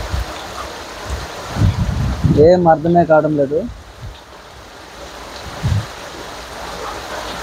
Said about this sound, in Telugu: వర్షం అయితే దంచి కొట్టేస్తుంది